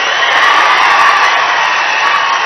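A large crowd at a political rally roars continuously with clapping and cheering, a dense, loud, steady wash of noise with no pauses.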